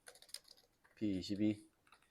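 Computer keyboard keys are pressed, including the Home key, during a PLC timing-chart exercise, giving a few quick, faint clicks up close before a brief spoken phrase.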